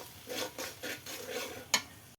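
Sautéing with cumin paste in a pan for a Malabar spinach dish, a quiet low sizzle under rhythmic swishing stirs, with one sharper clink of utensil on pan near the end.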